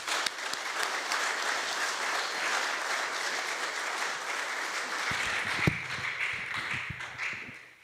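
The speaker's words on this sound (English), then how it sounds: "Please put your hands together and welcome our guest speaker, Charles Bryce." An audience applauds to welcome a guest speaker at an Australia Day celebration in Lucindale, a steady wash of clapping that holds for several seconds and then thins out near the end.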